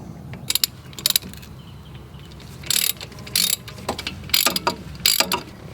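A torque wrench tightens the two caliper bolts on a Subaru front brake, giving several bursts of close ratcheting clicks separated by short pauses, with no talking.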